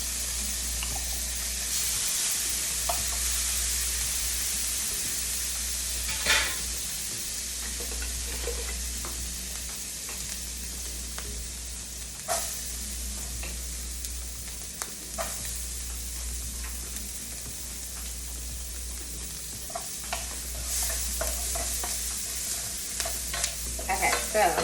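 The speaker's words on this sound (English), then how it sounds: "I got my butter melted. Got my minced garlic in." Minced garlic sizzles in melted butter in a pan, a steady hiss running throughout with occasional scrapes and clinks of stirring, fairly close and with no talking.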